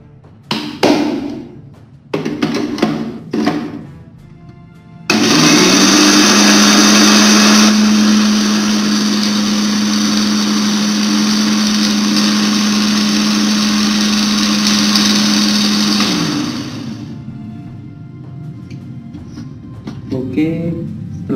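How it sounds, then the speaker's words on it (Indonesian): After a few seconds of talking, a blender grinding moringa leaves with a little water roars loudly and steadily for about ten seconds with a high-pitched whine, then winds down. "kemudian kita blender."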